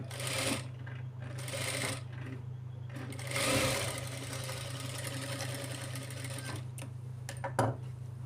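A sewing machine stitches around the curved round neckline of a child's lehenga blouse, running in short steady bursts with brief pauses as the fabric is turned, close and fairly loud, with no talking.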